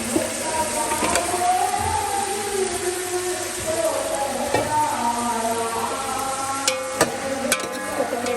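Chicken fries in a pan with chili and spices, a steady sizzle broken by scraping stirs and occasional sharp metallic clicks of a spoon against the pan, while someone talks quietly in the background.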